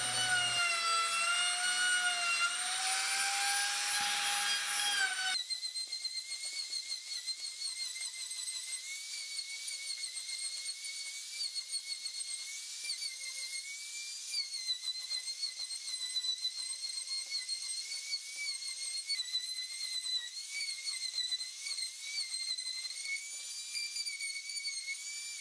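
Router with a round nose bit carving out a wooden sign, a high, steady whining scream with shifting pitch that drops slightly as the cutter bites into the wood, continuous and loud with no talking.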